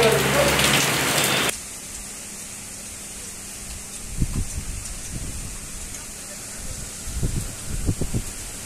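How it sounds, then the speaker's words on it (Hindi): Heavy rain with strong winds in Bidar, Karnataka: a loud, dense downpour roar for the first moments, then a quieter steady windy wash with occasional low thumps and gusts. "आज शाम को बीदर में अचानक तेज हवाओं के साथ जोरदार बारिश हुई।"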